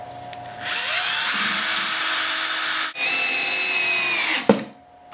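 Power drill driving two screws into a wooden goat stanchion leg: a loud, close, whining motor run, a short break, then a second run that ends with a clunk.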